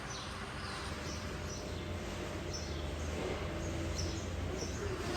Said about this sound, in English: There's actually a bird.